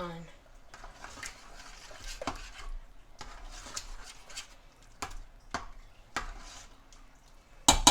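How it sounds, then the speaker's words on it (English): Taco meat with seasoning stirred in a pan for taco salad: a spatula scrapes and clinks against the pan in irregular, fairly quiet strokes, with a soft voice faintly present beneath and a sharper clatter at the very end. "stir it up all the way to make sure all the seasoning is mixed in"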